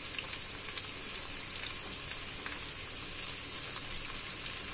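Vegetables including papaya, carrot and beans frying in a pan, a steady close sizzle with fine crackling and spitting that stays even and unbroken throughout, with no voices.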